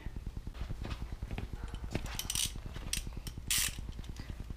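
A ratchet wrench retorquing the rear wheel axle of an Indian Thunderstroke motorcycle, giving a rapid, even run of quiet close clicks.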